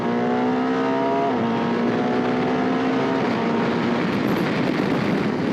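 BMW R1300 RS motorcycle accelerating hard, engine note climbing through the revs, a brief dip at a gear change, then pulling up again over loud steady wind rush, close and continuous with no talk.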